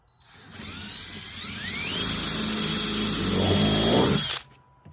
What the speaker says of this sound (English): So I'm gonna go ahead and drill the hole.